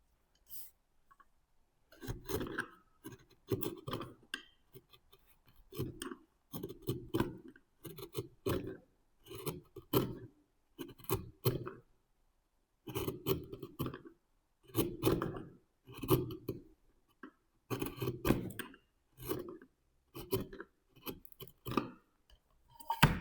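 A shallow chisel with a number 5 profile carves detailed wood, each cut a sharp scraping rasp, close and clear, repeated in short bursts with brief pauses between strokes.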